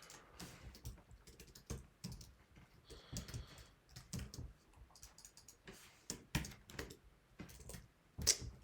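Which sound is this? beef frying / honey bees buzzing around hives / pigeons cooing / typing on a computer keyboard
typing on a computer keyboard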